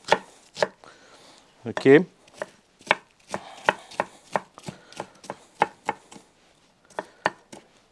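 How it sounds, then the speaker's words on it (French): Knife chopping two onions into pieces on a board for a béchamel, a steady series of sharp, close chops at a slow, even pace, with one brief spoken word near the start. "c'est couper des oignons en morceaux. 2 oignons."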